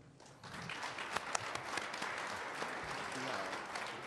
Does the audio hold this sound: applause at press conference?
yes